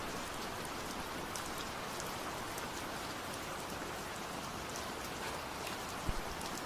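Steady rain falls on surfaces with a dense, even hiss and close patter of drops throughout, with a single faint knock near the end.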